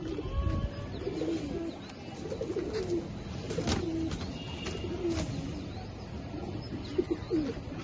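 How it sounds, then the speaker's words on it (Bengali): Pigeons, including a female, coo repeatedly in low, throaty bursts, close by, with some shuffling and faint background noise between calls. "এটা হচ্ছে একটা মাদি কবুতর"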